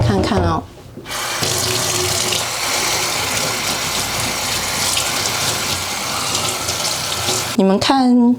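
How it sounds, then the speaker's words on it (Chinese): Hand-washed clothes are rinsed under a running tap, giving a loud, continuous gush of water close by. A person talks briefly at the start and again at the very end. "我来冲水看看哦"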